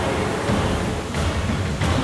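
Steady, dense roar of rushing water from a cartoon waterfall, loud and continuous across the whole stretch like broadband surf, with no voices.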